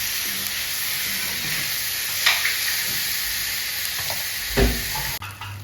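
Chopped tomato drops into a hot pan of mushroom masala, bringing a steady close sizzle and hiss with occasional stirring clinks and scrapes, alone without talk.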